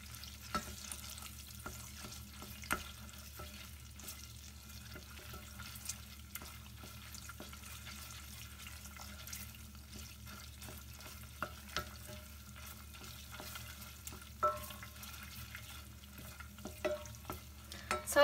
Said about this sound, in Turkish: Biraz şöyle salçayı kavurun.